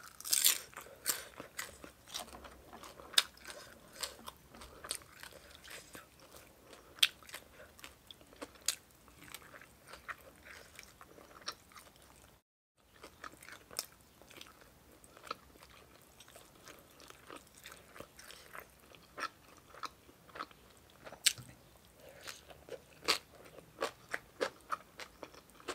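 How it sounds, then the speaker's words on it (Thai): Crispy fried fish skin crunches between the teeth in close, steady bites and chewing, with sharp crackling snaps repeating throughout and no talking. "หนังปลากรอบๆแซ่บ"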